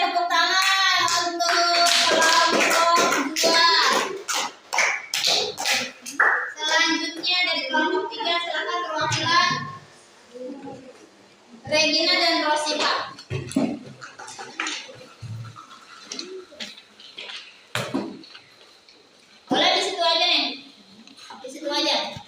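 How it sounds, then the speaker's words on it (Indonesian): Classroom applause for the second student group, a burst of clapping mixed with children's voices that comes and goes in several waves, with talk in between. "tepuk tangan untuk kelompok 2"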